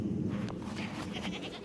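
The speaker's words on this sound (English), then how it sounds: "Goats are running around" Goats bleating on a farm, a few short cries rising over steady low engine-like rumble of a nearby Ford 8N tractor.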